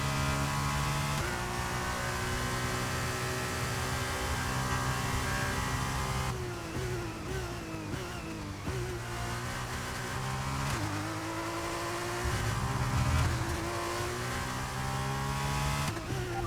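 A Formula 1 car in the racing game F1 23 screams through sustained high revs, its pitch dropping and climbing through gear shifts and braking zones, loud and continuous with no voices.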